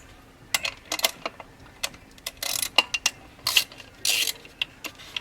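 A small Torx T5 bolt is removed from a part on a Mercedes exhaust manifold with a ratcheting driver. The tool gives crisp, close clicking bursts in an irregular rhythm, separated by short quiet pauses.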